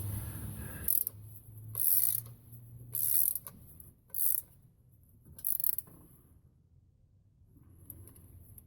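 A ratchet snugs the exhaust gasket nuts on a C10 truck under restoration, five short bursts of rapid clicking separated by pauses, fairly close and crisp, then quieter fiddling at the end.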